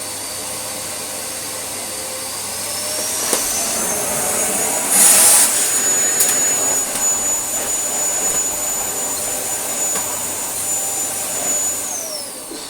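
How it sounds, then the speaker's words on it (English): A Samsung CycloneForce 2100W vacuum cleaner runs after refurbishment with a loud, sustained rushing whine, a brief sharper burst partway through, the tone holding steady close to the microphone. "Seems to be blowing its own release valve as well."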